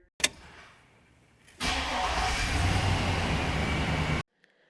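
A 2003 Chevy Silverado 1500 pickup engine cranks and fires after a sharp click, then idles loud and steady for a few seconds before cutting off abruptly.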